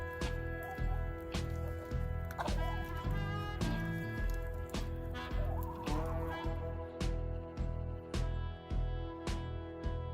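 Backyard urban chickens eating supplement feed make a busy, continuous clucking and squawking chorus close up, with sharp pecking taps repeating throughout and no one talking.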